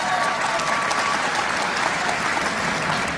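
A large crowd bursts into loud, sustained applause: dense, even clapping that fills the whole stretch without letting up.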